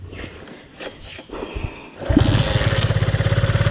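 An old Honda CD 80 motorcycle is started: a few mechanical clunks and shuffling, then the small engine catches and settles into a loud, rapid, even putter close by.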